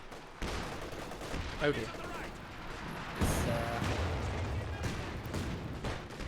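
Howitzer motor carriages fire in a Company of Heroes match, with heavy booming artillery blasts and gunfire rumbling through the battle, and a voice briefly speaking over the din.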